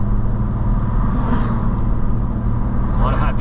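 A car climbs a Smoky Mountains road, its engine and tyre rumble a steady low drone from inside the cabin, continuous and fairly loud.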